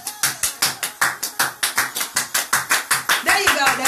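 People clapping in a steady rhythm, about twenty sharp close claps in quick succession, quickening and blending near the end.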